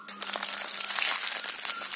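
A sterile urine sample container being opened for a sugar test, a short burst of close crinkling and crackling like a plastic wrapper being torn open, with no speech.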